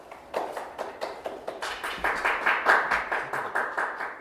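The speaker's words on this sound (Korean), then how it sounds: "박수를 부탁드립니다." Audience applause at an award ceremony for a disability employment awareness festival, a steady patter of many hands clapping in a hall, rising slightly louder midway with no talk over it.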